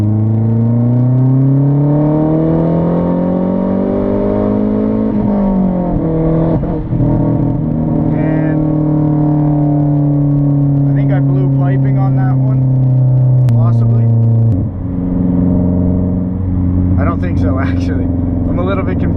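A Mazdaspeed 3 with methanol injection makes a wide-open-throttle third-gear pull, its engine note rising steadily in pitch before dipping, with a brief shift-like break and someone talking over the loud drone throughout.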